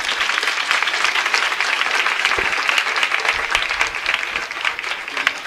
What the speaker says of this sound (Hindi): आइए हम यीशु के लिए एक जोरदार ताली बजाएंगे